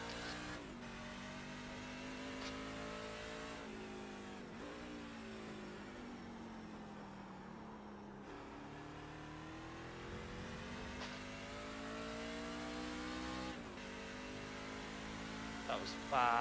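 A Mazda MX-5 lapping Lime Rock Park racetrack, its engine revving steadily through the gears, rising and falling with shifts and corners; the engine note stays close and continuous while a driver talks over it.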